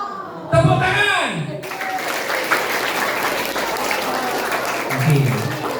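Schoolchildren clap their hands together at an elementary school, a burst of dense applause rising suddenly and holding steady across the room, with a voice speaking over the start and children's voices mixed in.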